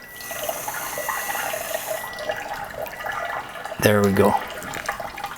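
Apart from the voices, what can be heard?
tap water filling a basin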